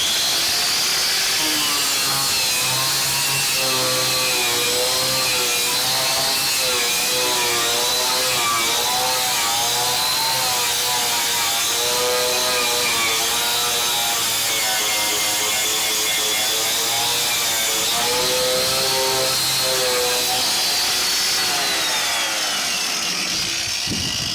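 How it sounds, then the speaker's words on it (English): A Chicago Pneumatic air grinder fitted with a wire wheel working on steel to expose spot welds, a loud continuous high whine with a grating metallic buzz that wavers in pitch as pressure on the metal changes. "I take this, which is just I think it's a Harbor Freight even, Chicago pneumatic grinder with a wire wheel on it"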